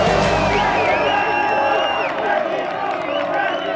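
A passionate hometown golf crowd at a LIV Golf event in Mayakoba cheers and whoops loudly, a dense roar of voices with rising whistles and shouts throughout.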